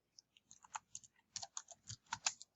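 A computer keyboard is typed on in a quiet room, giving a dozen or so crisp, close key clicks in an uneven rhythm. Short pauses fall between small bursts of keystrokes.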